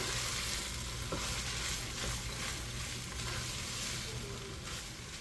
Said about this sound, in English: while my potatoes are cooking